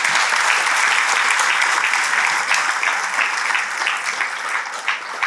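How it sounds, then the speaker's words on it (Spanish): Church congregation applauding, a dense wash of many hands clapping at once, loud and sustained, slowly thinning toward the end, with faint voices mixed in. "Démosle un aplauso al Señor"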